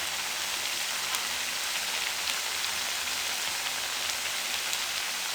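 Dal moong tikkis fry in cooking oil over a medium flame, giving a dense, steady, even crackle and sizzle with no breaks and no voices.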